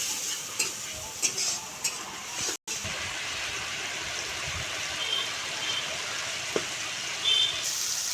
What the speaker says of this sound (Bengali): ভালো করে নেড়ে চেড়ে মশলাটাকে কষিয়ে নেব।